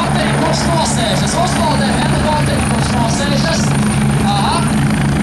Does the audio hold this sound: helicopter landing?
yes